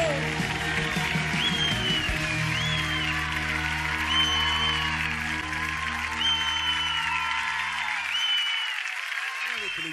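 At a live concert an audience applauds a singer, dense sustained clapping from a large crowd, with amplified voices and a musical tone over it, fading out near the end.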